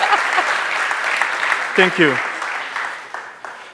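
A live audience claps louder in a steady, dense wash of applause that carries on under a short spoken thanks near the middle.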